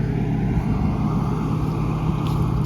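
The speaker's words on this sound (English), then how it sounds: "Now one tire starts to spin now." Engine of a 1988 Mazda B2200 pickup truck running steadily close by with a rear tire spinning in place, a continuous low droning roar with no talk.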